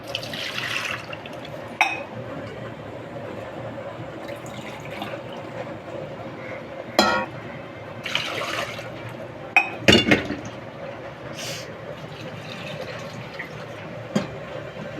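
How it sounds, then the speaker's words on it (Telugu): Water poured from a glass into rice for cooking, a gentle continuous trickle and slosh with occasional louder splashes and clinks against the vessel. "2 గ్లాసులు అన్నానికి 3 గ్లాసులు నీళ్ళు వేసుకోవాలి."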